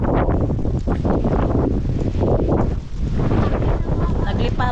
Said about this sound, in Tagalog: sira na dito yung ano, hangin, yung buhangin dahil masyadong malakas yung hangin